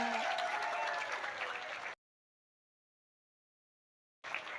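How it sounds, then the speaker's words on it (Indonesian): A women's Muslimat religious gathering gives a round of applause, a dense crowd clapping for about two seconds before the sound cuts out, then briefly returning at the end. "saya minta tepuk tangan dulu luar biasa"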